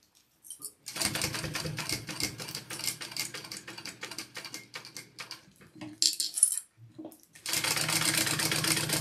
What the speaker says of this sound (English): I'm going to go ahead and top stitch that around